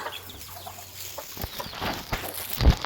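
Several chickens cluck nearby in short, uneven bursts as they are fed rice grain, with soft rustling and a louder squawk near the end.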